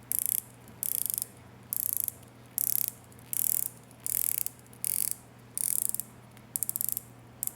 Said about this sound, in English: The 120-click ceramic bezel sounds good, has a little bit of a backplay